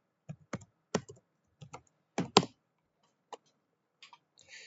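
Keys clack on a computer keyboard in short, uneven bursts of close, crisp taps with brief pauses between them and no talk.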